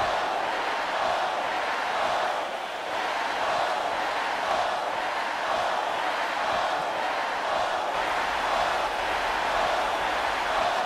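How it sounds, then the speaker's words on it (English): Wrestling crowd at a TCW versus Battle Pro main event, fans splitting between rival promotion chants; dense, steady roar of many voices throughout, loud and sustained without a clear break. "Racky heard what was going on with the Battle Pro chant."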